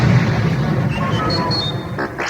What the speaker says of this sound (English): The Death Star rocked with a chain of explosions.